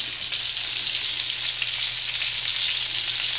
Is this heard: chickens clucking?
no